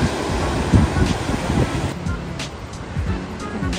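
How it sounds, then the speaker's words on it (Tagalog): Ocean surf breaking at Dolphin Point on the Sunshine Coast, a steady wash of waves with gusts of wind buffeting the microphone and brief footstep-like thumps near the start. "Ganda ng karagatan."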